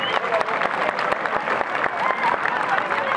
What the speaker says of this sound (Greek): Ένα θερμό χειροκρότημα, παρακαλώ, για τα παιδιά με τα πορτοκαλί μπλουζάκια